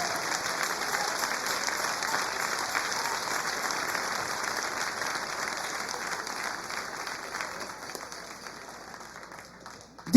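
A church congregation applauds steadily for about ten seconds, a dense wash of clapping that slowly fades toward the end.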